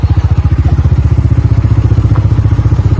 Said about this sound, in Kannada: ನಾನು ಬೈಕ್ ಮೇಲೆ ಹಿಂಗೆ ವಿಡಿಯೋ ಮಾಡತ್ತಂದ್ರೆ ಆಟೋಮೆಟಿಕ್ ಹೋಗ್ತದಪ್ಪ ಗಾಡಿ